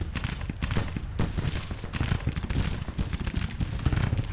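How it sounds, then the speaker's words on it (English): Musket volleys and cannon fire on a Grand Tactician: The Civil War battlefield, a constant crackle of overlapping shots with occasional deeper booms, steady and dense throughout. "Everybody's firing, including the cannons."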